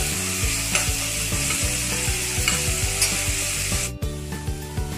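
Onions sauté in a pan, a constant loud sizzle punctuated by repeated scraping strokes of a spatula stirring them, with a brief dip partway through.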